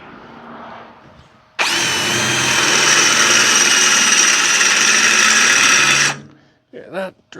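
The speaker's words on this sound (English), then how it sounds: "Yeah, that drill is not good." A power drill that runs poorly whirs loudly and steadily for about four and a half seconds, then cuts off, with brief quieter sounds before and after.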